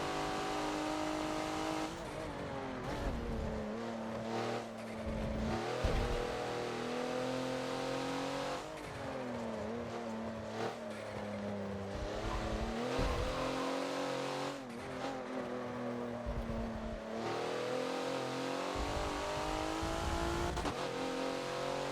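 A race car in the Forza driving game at the Homestead circuit, engine roaring at full throttle for over twenty seconds, pitch climbing through repeated gear shifts with brief dips between, loud and continuous.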